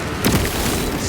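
A grenade explosion in Warhammer 40k Space Marine 2 bursts as a short loud boom inside dense, continuous battle noise, with the blast standing out briefly in the middle of the clip.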